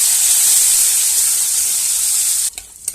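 Gobindobhog rice grains frying in a pan, a steady loud sizzle that runs for most of the moment before cutting off abruptly, followed by a couple of short stirring scrapes.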